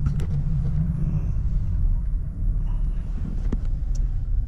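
A car creeping slowly along city streets, heard from inside as a low, steady engine and road rumble with a few faint clicks and knocks over the top.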